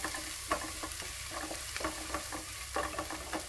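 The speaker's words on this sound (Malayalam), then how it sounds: "അപ്പോൾ വെളുത്തുള്ളി ഇട്ടു ജീരകം ചതച്ചത് കുരുമുളക് ചതച്ചത് ഇട്ട് കൊടുത്തു ഒന്ന് വാടി വരട്ടെ" Garlic, crushed cumin and crushed pepper fry in a pan with a steady dense sizzle, broken by intermittent scraping stirs that come close and clear, with no voices.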